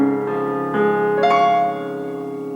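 Solo piano plays the last two measures of a song from Over The Garden Wall, a few chords struck in turn and left ringing, clear and close.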